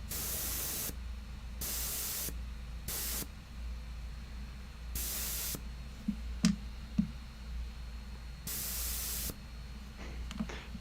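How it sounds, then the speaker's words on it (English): An airbrush compressor runs in bursts of steady hissing spray, switching on and off several times, with faint clicks and a low hum between the bursts. "Airbrush compressor, I'm assuming."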